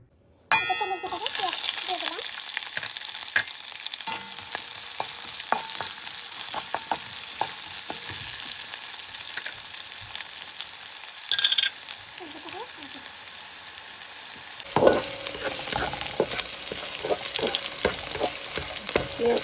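Chopped onions fry in oil until light brown for a chicken korma, a continuous loud sizzle close by with scattered clinks and scrapes of a spoon stirring the pan, and a brief clang near the end.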